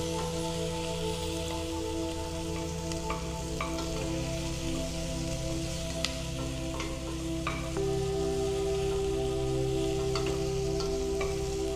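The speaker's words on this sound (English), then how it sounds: "So we're just gonna cook these onions again until they get soft." Onions fry in a pan over medium-high heat, giving a steady, dense sizzle and crackle that runs unbroken throughout, close and fairly loud, with occasional stirring scrapes and no talking.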